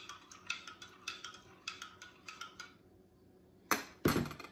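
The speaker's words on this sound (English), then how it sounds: "give it a stir." A homemade hand sanitizer mix of rubbing alcohol and Dawn dish soap is stirred in a bowl, giving a run of quick, regular scraping clinks, followed by a pause and two louder knocks near the end.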